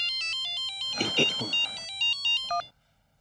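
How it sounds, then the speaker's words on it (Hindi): A phone ringtone plays a loud, repeating electronic melody in a steady pattern, then cuts off abruptly near the end. "किडनैपर का फोन।"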